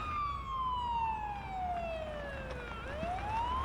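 An ambulance siren in a paramedic simulator video game wails at moderate volume, a long descending tone that then turns and sweeps back upward, playing on its own without talk.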